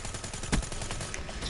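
Rapid submachine gun fire from a VMP in a video game, a steady stream of sharp shots with one louder burst, continuous and mid-level without talk.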